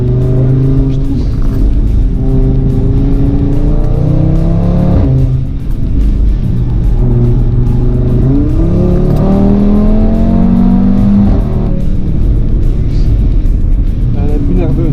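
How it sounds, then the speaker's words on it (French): An Audi RS3 driving a lap on a race circuit, its engine repeatedly climbing through the revs with gear changes, loud and close, with people speaking over it. "il va nous montrer un tour sur circuit avec sa RS3"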